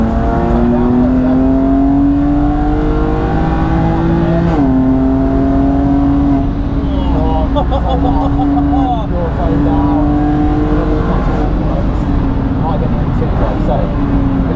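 Race car engine on a track at Palmer Sport, loud and continuous, revving and pulling up through the gears with a brief dip as the driver shifts, under steady instructor talk about throttle and corner exit.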